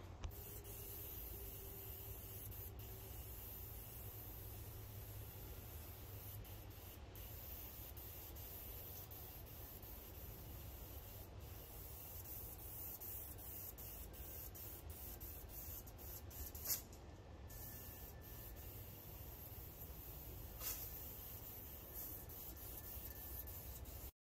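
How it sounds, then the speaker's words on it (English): Truck parts are spray painted with base and clear coat, without a paint gun or air compressor, as a faint, steady hiss of spraying runs continuously with a few short clicks and no voices. "I'm gonna go spraying."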